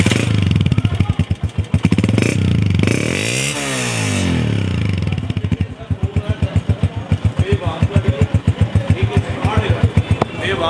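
A restored 2017 Honda 125 motorcycle engine idles with a steady thumping beat, revs up briefly with a rising and falling whine, then settles back into its loud, regular pulsing idle close by.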